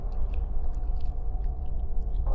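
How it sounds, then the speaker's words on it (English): A creature in the horror video game From The Darkness chews wetly and steadily, a low, continuous gnawing and smacking with faint clicks on top. "there's something chewing on that one"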